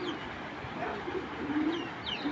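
A female racing pigeon being handled and shown, giving soft low coos amid faint background hum and a few distant chirps, with no voices.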